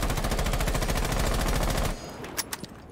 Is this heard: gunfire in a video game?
yes